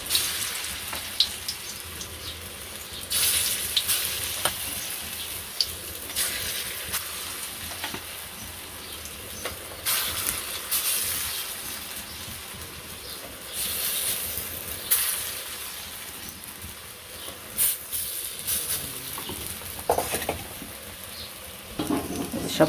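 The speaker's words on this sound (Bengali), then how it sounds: "ছোটো ছোটো করে বড়াগুলো ভেজে নেব" Small lentil fritters (bora) frying in oil in a village kitchen give a steady, close hiss and crackle, broken by louder sizzling surges and occasional stirring clinks, with no talking.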